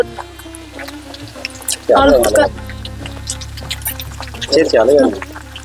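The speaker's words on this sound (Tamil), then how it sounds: "தண்ணியை முதல்ல ஐயாவுக்கு அபிஷேகம் பண்ணுறேன்." Water is poured over a Shiva idol during an abhishekam ritual in an ancient village temple, two close splashing bursts of pouring and dripping over steady background chanting and talk.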